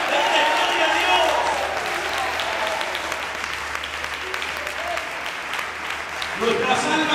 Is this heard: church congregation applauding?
yes